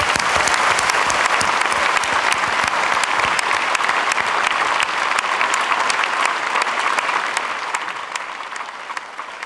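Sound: audience applause

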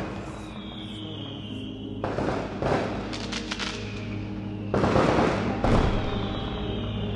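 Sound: fireworks in a music video

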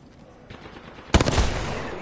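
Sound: gunfire in video game

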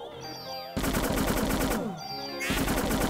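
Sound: gunfire from the video game Parasite Eve

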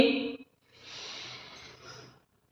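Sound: breathing in while raising arms in exercise

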